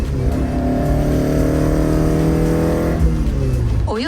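Toyota AE86 with a 4A-GE 20V engine revving hard while driving, a loud, continuous rising engine note held for about three seconds, then easing off before a sharp rev blip near the end.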